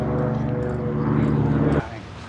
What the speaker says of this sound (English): Little float plane right there.